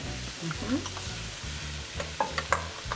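Three bay leaves are stirred into a sizzling pot, a spoon scraping and tapping intermittently over a steady frying hiss and a low hum, close and moderately loud.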